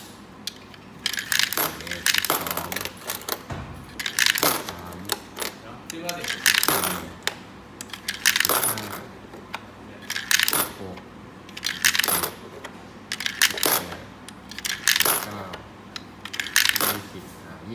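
Coins drop one at a time into a six-slot coin-operated machine being set up, including five-baht coins. Crisp metallic clinks land roughly every two seconds, close and clear against a quiet background.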